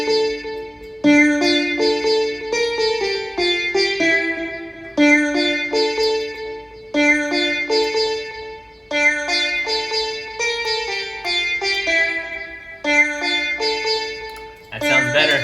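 Sitar sample being auditioned in music production software on a MacBook Pro M1: a repeating plucked, twangy melodic phrase loops several times with short gaps, clear and close, with no talk over it.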